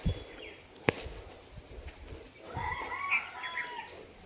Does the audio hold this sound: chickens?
yes